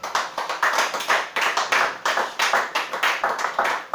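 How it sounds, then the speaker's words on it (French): A church congregation claps in steady unison to acclaim Jesus, with sharp, evenly spaced rhythmic hand claps filling the room at a brisk pace, close and loud with no talking over them. "On acclame le Seigneur Jésus-Christ."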